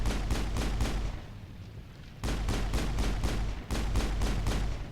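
Rapid bursts of video game gunfire from Mass Effect: three loud, close volleys of quick repeated shots, separated by short pauses.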